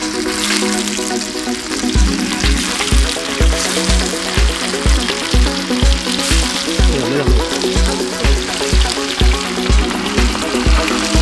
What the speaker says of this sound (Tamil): எண்ணெய் வந்து நல்லா கொதிச்சிருச்சு, நல்லா காஞ்சிருச்சு. மீனை போட்டலாம்.